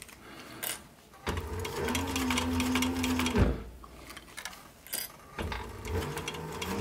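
A sewing machine sews a sweatband onto a plastic sun visor in several short bursts of rapid mechanical stitching separated by pauses, close up, with a person talking in between.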